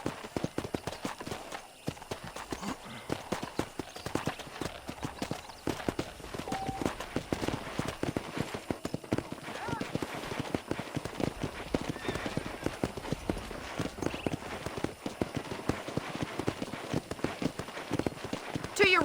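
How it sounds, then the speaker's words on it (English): Hooves clip-clop in a quick, continuous rhythm as horses move through the Red Dead Redemption video game, with a faint whinny and game voices talking over the hoofbeats throughout. "I picked out a fine horse for you."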